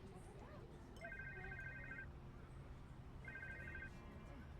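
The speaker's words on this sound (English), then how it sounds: "It was a phone call." A telephone rings twice in the Chinatown Detective Agency video game, two electronic trilling bursts of about a second each, separated by a short gap, over a steady low background hum.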